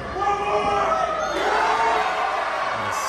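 A wrestling event crowd roars and cheers continuously, dense and loud for the whole stretch, with scattered shouts and whoops mixed into the steady din.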